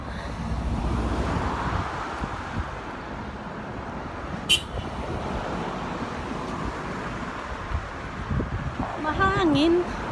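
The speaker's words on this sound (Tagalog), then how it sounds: "Mahangin." Gusty wind rushes over the microphone outdoors beside a busy street, with passing traffic rumbling underneath and a brief horn-like tone near the end.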